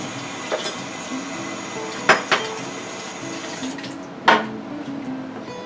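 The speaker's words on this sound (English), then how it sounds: "Let me rinse this spoon off." A spoon rinsed under a running kitchen tap: steady water hiss with a few sharp metallic clinks against the sink, close and fairly quiet, no talking.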